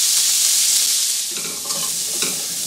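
Onions and bacon frying in a pan, a bright continuous sizzle close up, with a few soft stirring scrapes near the end.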